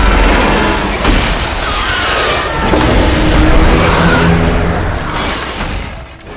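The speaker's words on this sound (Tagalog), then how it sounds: "muling inactivate ni Lucy ang mga devices, na nagdulot ng banggaan ng lahat ng sasakyan sa isang magulong aksidente" A chaotic film-scene pileup of cars slamming into each other, heard as a loud, sustained roar of engines and crunching impacts with booming hits throughout, and no speech.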